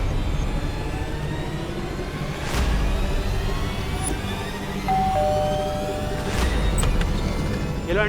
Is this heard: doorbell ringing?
yes